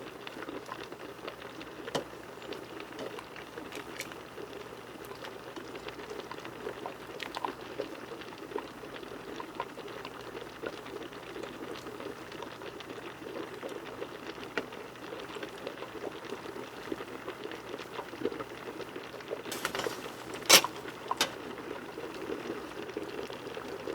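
Pot of Khmer rice porridge (babor kreung) bubbling at a steady low simmer, a soft continuous patter of bursting bubbles close by, with a brief brighter clatter near the end.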